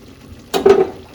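A brief burst of stirring and sizzling as a mixed spice paste of tomato and onion fries in oil in a pan, one short scrape-and-fry sound lasting about half a second amid near quiet.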